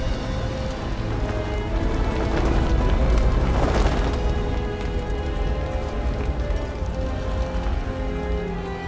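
Fire attack in the Dynasty Warriors 9 video game: a dense, steady roar of crackling and rushing flame fills the scene, swelling into a louder burst midway before settling back to a continuous crackle, with no talking.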